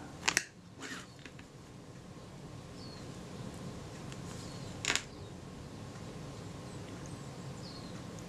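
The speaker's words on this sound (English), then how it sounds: "If I rotate that, I can cock the shutter and the shutter fires" A few crisp mechanical clicks of a Kodak Retina IIIS camera shutter being cocked and fired stand out against quiet room noise, a pair near the start and another sharp snap later.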